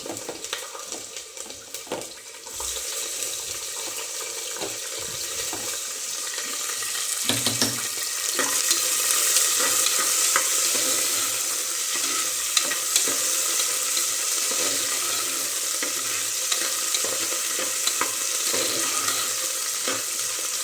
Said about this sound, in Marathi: जरा मिरची भाजली पाहिजे ना आणि मटर पण टाकून घेते कारण का तेलात छान तळे जातील किंवा तुपात